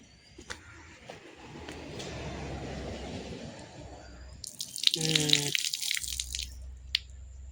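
Water runs from a tap into a bucket during a car wash in coastal Konkan, Maharashtra, a steady broadband splash that swells midway with clattering splashes and faucet drips, then eases.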